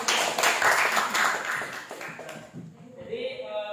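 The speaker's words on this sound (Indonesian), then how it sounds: "Berikan tepuk tangan dulu." Students in a classroom clap briefly as a spoken lesson goes on. The patter thins out and gives way to a soft ringing tone and voices.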